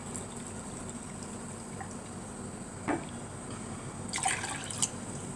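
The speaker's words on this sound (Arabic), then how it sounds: "نزلنا بكوبايتين ميه وكوبايتين من السكر." Water is poured onto sugar for basbousa syrup, producing faint, brief splashing and trickling bursts over a quiet background.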